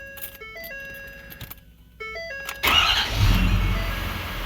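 Ford 6.7 Powerstroke diesel pickup starting after a turbo and exhaust manifold replacement: a few electronic dash chimes, then the engine cranks and catches, settling into a loud, close, steady diesel idle.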